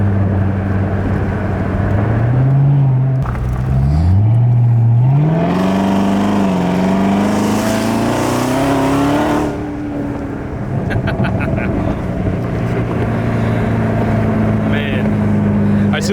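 A Corvette C7 ZR1 with its active exhaust open revs hard and close by, the engine note climbing and dropping in repeated sweeps before settling into a steady loud idle, with people talking nearby.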